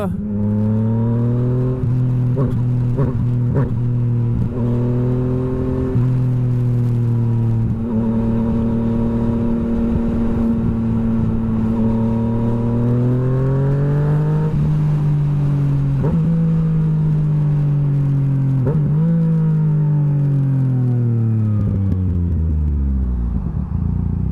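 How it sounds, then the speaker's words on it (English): Yamaha XSR900 motorcycle fitted with an M4 exhaust accelerates and downshifts, its engine note climbing and dropping through several gear changes with rising and falling pitch, loud and close throughout. "I love that downshift, man. It sounds so good."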